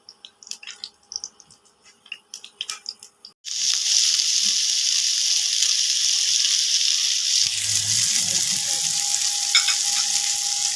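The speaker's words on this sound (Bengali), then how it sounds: "এবার এক এক করে সবজিগুলোকে ভেজে নেবো" Vegetables for a shop-style Bengali veg chow mein hit hot oil and fry with a loud, steady sizzle, starting abruptly after a few quiet scattered clinks and continuing with stirring scrapes underneath toward the end.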